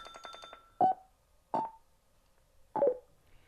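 A short series of rapid electronic beeps from a Cardo Scala Rider Freecom 4 motorcycle communication system, followed by three separate descending two-tone chimes spaced about a second apart, clear and close against silence.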